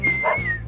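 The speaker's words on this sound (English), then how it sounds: "I found a dog yesterday." Minecraft dog making a short whistly whine or whimper that holds a steady tone and then slides downward, close and clear, with no talking.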